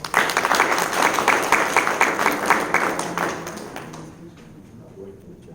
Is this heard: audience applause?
yes